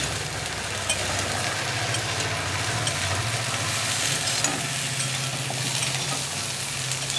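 Vegetable stems fry in a pan while being gently stirred with a spatula, a steady continuous sizzle with a low rumbling hum underneath and no talking.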